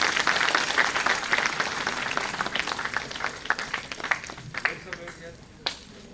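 A crowd at a panel discussion on higher education reform applauds with scattered claps that thin out toward the end, with a voice speaking underneath.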